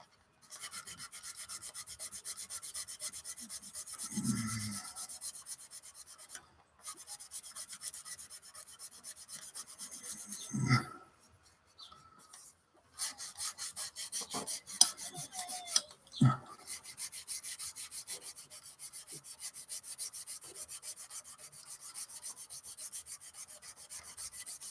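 Sanding stick rubbing across a part of an Airfix 1/24 Spitfire Mk Vb plastic model, a steady close rasping scrape that runs almost continuously with a few brief pauses and knocks.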